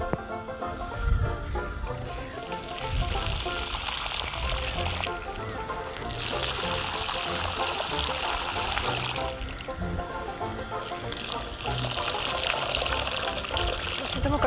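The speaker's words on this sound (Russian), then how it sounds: "И обильно заливаем водой." Water pours into a garden planting hole prepared with humus and ash for bulbs, a steady splashing gush that comes in three long pours with short pauses between, with faint outdoor sounds beneath.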